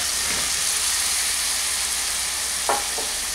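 Cut brinjal pieces sizzle and fry steadily in hot spiced oil, a continuous close hiss with a couple of brief stirring scrapes near the end.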